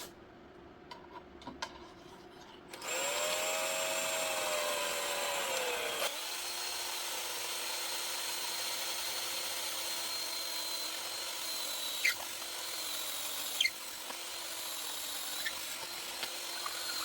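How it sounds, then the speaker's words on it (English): Power drill boring into a wooden kitchen cabinet door through a guide with scrap wood behind: the motor whines up after soft clicks, then a steady grinding drone through the wood with a couple of sharp knocks. "All we gotta do is drill here."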